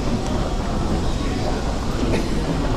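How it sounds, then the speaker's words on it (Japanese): A JR commuter train, a rapid service bound for Tokyo, rumbles steadily into Shinjuku Station at morning rush hour, with a broad metallic roar and a brief squeal near the end. "到着の電車は 快速東京行き"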